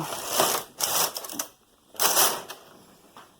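A knitting machine carriage slides across the needles in two rattling, clattering passes, each about half a second to a second long with quiet gaps between, close and fairly loud.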